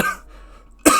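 A single harsh cough bursts out at close range after a short stretch of near silence, preceded by the tail of an earlier rough throat sound.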